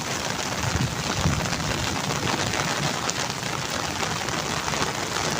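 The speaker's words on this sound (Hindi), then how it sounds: "अगर बारिश इंजॉय करनी है तो" Heavy rain pours steadily over a Pakistani village, a dense continuous hiss of drops on surfaces with no pauses, close and loud throughout.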